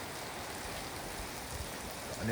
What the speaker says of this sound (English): There's the tiny sprinklers there. So they're working.